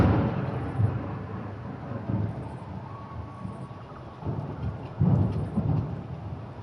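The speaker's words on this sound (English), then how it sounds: "I thought I was hearing thunder. I got a rainstorm." Thunder rumbles through a rainstorm, with low rolling booms rising and fading over steady rain, including a heavier clap near the end.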